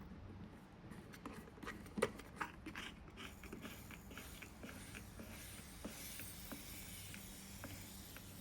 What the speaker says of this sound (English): Hissing is pushing out some air.